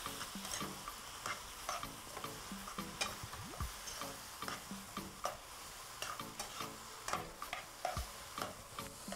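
Ground meat and seasoning sizzle and fry in a pan over high heat, with a steady crackle broken by repeated stirring scrapes and clatter, close and moderately loud, no talk.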